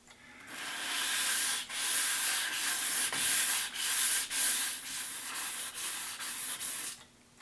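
Metal edges sanded by hand with 1000 grit sandpaper on a Hermle 1050-020 clock part, a close, steady hiss of back-and-forth strokes with short pauses between passes, then it stops.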